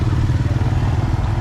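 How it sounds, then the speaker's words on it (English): Motorbikes loaded with goods rumble loudly nearby at a Hanoi market at dawn, engines droning continuously with some clattering. "Motorbikes loaded with goods start spreading out in every direction."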